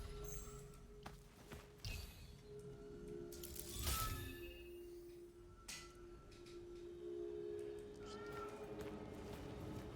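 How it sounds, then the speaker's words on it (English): A house cat meows a few times, moderately close and fairly soft, amid scattered room noises, light clicks and shuffling, with no one talking. "Sometimes my cat just sits out right next to the entrance of the door and literally just meows."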